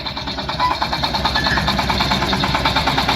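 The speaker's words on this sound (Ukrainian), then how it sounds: "паралельно катається, тестує японський тракторець" A small diesel engine runs steadily with a rhythmic mechanical chug, close by and constant throughout: a Japanese 24-horsepower compact tractor.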